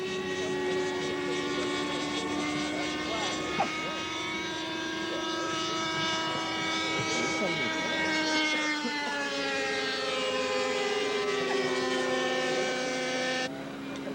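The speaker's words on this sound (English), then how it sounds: "It's powered by two OS-25 engines and turning two Larry Epifanio RK-20 ducted fans." RC scale Gloster Meteor model jet with two OS-25 engines turning two ducted fans, a steady, loud, high whine with slowly shifting pitch as it flies past, continuous and without any talk.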